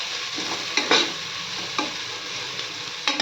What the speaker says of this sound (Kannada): ಈಗ ನೋಡ್ರಿ ಈರುಳ್ಳಿ ಹಾಕ್ಕೊಳ್ತಾ ಇದ್ದೀವಿ